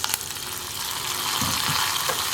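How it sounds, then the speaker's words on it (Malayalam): Hot tempering with curry leaves sizzles and fries steadily as it is poured into kumbalanga (ash gourd) pachadi, a Kerala sadya dish, with no talk over it. "ഇനി നമുക്കിത് പച്ചടിയിലേക്ക് ചേർത്ത് കൊടുക്കാം."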